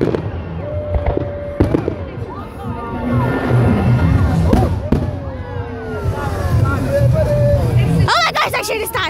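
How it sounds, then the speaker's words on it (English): Bonfire Night fireworks burst repeatedly at a crowded outdoor display, with sharp bangs, rising whistles and crackling over a steady murmur of voices and occasional cheering, growing busier toward the end. "here's the 10-minute mark of when the fireworks start"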